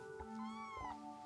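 A cat meows once in a drawn-out, wavering cry, close and clear, with no talking.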